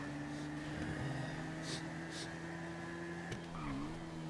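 A car driving in GTA V roleplay, its steady engine drone holding a continuous tone with a brief skid or tire squeal partway through, heard alone without talk.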